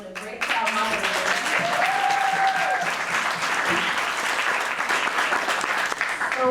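An audience breaks into loud, sustained applause after a youth housing insecurity panel, dense steady clapping with some cheers, a voice briefly heard over it at the start.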